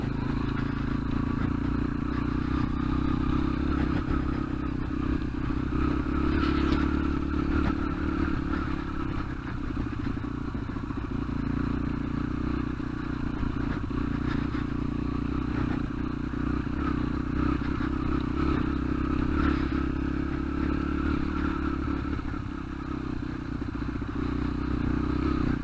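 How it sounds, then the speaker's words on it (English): A Yamaha TTR125 dirt bike rides across grass, its small single-cylinder engine droning steadily and close with slight rises in revs, plus faint clatter and scraping from the terrain throughout. "Look, I have a motorcycle."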